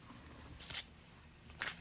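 A deck of tarot cards is shuffled in two short bursts of riffling and sliding, close and fairly quiet, with a low background hum between them.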